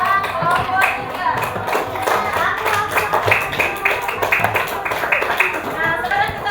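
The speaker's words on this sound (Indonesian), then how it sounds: "Beri tepuk tangan untuk hasil pekerjaan kelompok 3." Classroom applause for a student group's work, a steady patter of many hands clapping together under overlapping children's voices.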